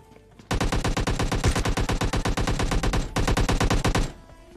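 Rapid automatic gunfire from the mobile shooter game PUBG Mobile Lite rattles out in two long, dense bursts with a brief gap between them. It is loud and close, with no speech.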